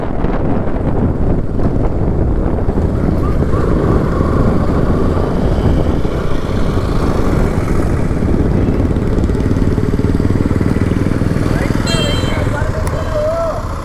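A KTM Duke 200 BS3 motorcycle fitted with a GT exhaust runs steadily and loudly throughout, its engine drone partly buried under heavy wind buffeting on the microphone.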